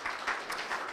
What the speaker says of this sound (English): give God a round of applause for that and those who serve